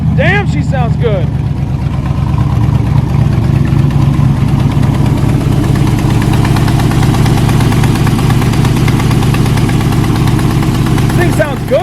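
A junkyard LS V8 with an eBay cam idles in an S10 drag truck, a loud, lumpy, choppy rumble with an uneven loping beat, close by, with a short rev at the start and end.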